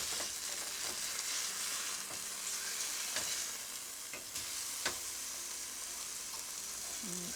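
Chicken browns in a frying pan, a quiet, steady sizzle of hot oil with a few soft clicks and taps of utensils, close and uninterrupted by speech.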